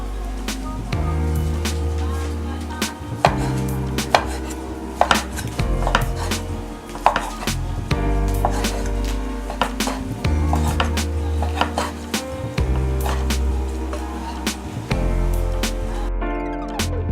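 Knife chopping through cooked beef on a cutting board for Thai boat noodles, a steady series of sharp, close taps and thuds with occasional clinks of dishes, loud and without talk.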